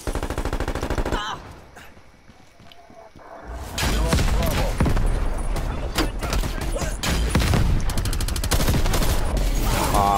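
Loud, sustained automatic gunfire in a video game, a dense stream of shots with explosions mixed in that follows a quieter opening stretch.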